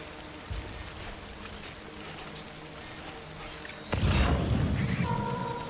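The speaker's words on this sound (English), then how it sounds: "This timefall is fucked up." Timefall rain in the video game Death Stranding hisses steadily as a broad wash of falling water, then swells into a louder, denser downpour about two-thirds of the way through.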